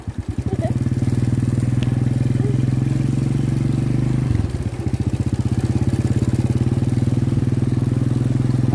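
A motorcycle rides through a flooded road with a loud, steady engine drone close by, dipping briefly midway before carrying on with a throbbing rhythm.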